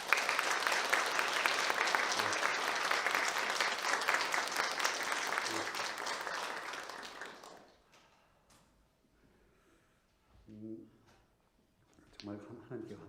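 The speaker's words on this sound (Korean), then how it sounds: "박수 한번 해주십시오." Church congregation applauds a newly installed senior pastor and his wife, a steady wash of clapping for about seven seconds that fades out, followed by quiet with soft voices and handling sounds.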